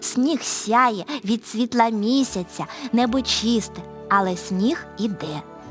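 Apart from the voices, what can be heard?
None of the usual background noises is heard.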